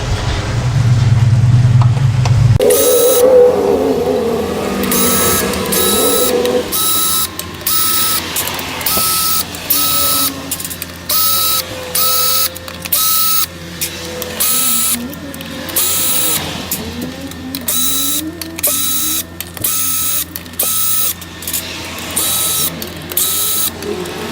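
A power tool whirring loudly and ratcheting in short repeated bursts while removing Torx 40 bolts from a ZF6HP26 automatic transmission pan, close and steady with brief pauses between runs.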